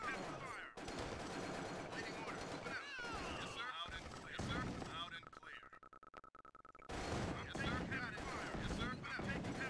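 Rapid gunfire and explosive bursts from the real-time strategy game Tiberian Sun, loud and dense across most of the stretch, with a brief quieter steady tone in the middle and overlapping unit voice responses.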